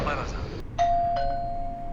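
A doorbell sounds twice, a sharp ding and then a second tone that rings on with a sustained pitch, close and clear after a stretch of talk.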